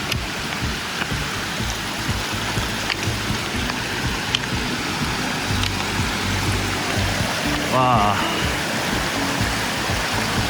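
Steady rushing water roars throughout, a dense broad wash from a rain-swollen Himalayan mountain stream turned waterfall in the rainy season, with no voices over it.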